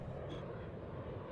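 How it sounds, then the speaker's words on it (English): Low, steady roar of a landing airplane in the Need for Speed Underground 2 racing game, a continuous rumbling engine drone heard alone at moderate volume. "You can even hear a plane landing."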